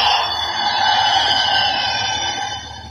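Ultraman Gaia toy sound effect of Gaia flying off into the sky: a dense, sustained whooshing electronic roar with siren-like layered tones, loud and steady throughout, fading slightly at the end, no talk.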